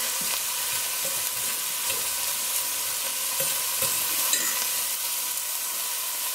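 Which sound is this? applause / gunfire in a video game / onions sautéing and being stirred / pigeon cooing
onions sautéing and being stirred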